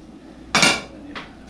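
Deboned squirrel meat drops into a metal pot of broth for squirrel and dumplings, with a sharp clattering clink of utensil on pot followed by a second softer knock, close by in a quiet kitchen.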